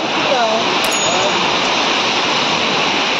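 Heavy monsoon rain in a village, a loud, unbroken hiss and roar pouring down close by, with a faint voice briefly under it.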